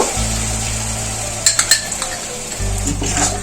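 Masala and whipped curd being stirred and fried in a pan on a lowered gas flame, a spoon scraping and clinking against the metal pan in a quick burst over a low steady hum and gentle sizzle.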